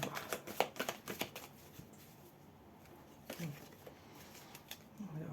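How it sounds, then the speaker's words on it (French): Tarot cards shuffled and gathered by hand in quick papery bursts, faint and close, with quiet pauses between handfuls and soft rustles near the end. "je suis obligée de ranger les cartes, beaucoup"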